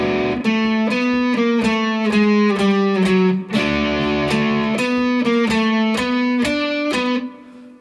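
Electric guitar plays the bridge of a song, a steady run of bright, slightly driven chords with repeated rhythmic hits, clear and close with no voices, ending in a short fade.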